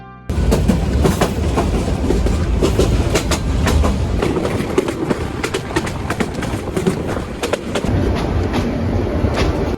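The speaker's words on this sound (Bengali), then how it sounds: "আমাদের ট্রেনটি কিন্তু এখান দিয়ে অনবরত ছুটে চলেছে সেই ঢাকার উদ্দেশ্যে।" A passenger train running on the Mymensingh to Dhaka railway, loud continuous rumble with rapid rhythmic clickety-clack of wheels over rail joints, heard from inside the moving train.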